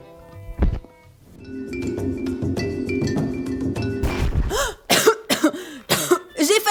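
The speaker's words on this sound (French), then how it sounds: "Heureusement que j'ai commencé à tousser." A single sharp cough, then a sustained tone, followed by a burst of several harsh, loud coughs in quick succession.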